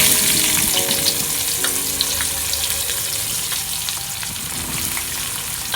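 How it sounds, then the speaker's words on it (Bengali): Chopped onion frying in oil with whole bay leaf and cumin for chicken korma: a loud, dense, close sizzle that holds steady throughout, with light stirring and a faint underlying hum. "পেঁয়াজগুলোকে ভালো করে ভেজে নেব"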